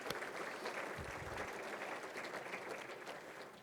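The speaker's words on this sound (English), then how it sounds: "Let's give Chris a round of applause." A room of people at an annual meeting claps steadily for an honoree, a dense, even round of applause that holds for several seconds before thinning slightly.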